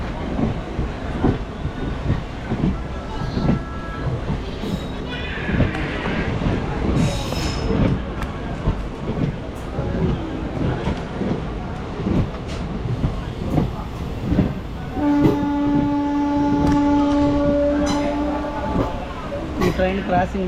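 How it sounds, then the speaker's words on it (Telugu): A train rolls by at a railway crossing on the Chennai to Pondicherry line, a steady rumble with clattering wheels and a long squeal near the end, with people talking over it throughout. "ట్రైన్ క్రాసింగ్ అన్నా కదా"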